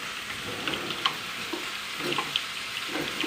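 Homemade apple fritter batter fries in hot oil with a soft, continuous sizzle, broken by a few light clinks and taps of utensils. There is no talking.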